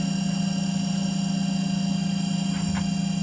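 A repaired Haas OM-2A CNC machine runs steadily with a low, constant hum and faint whine, briefly punctuated by a couple of soft higher-pitched bursts near the end.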